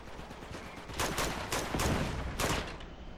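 Bursts of gunfire in the Uncharted 2 multiplayer match on The Lost City map, several rapid volleys crackling loudly over about three seconds with short gaps between them.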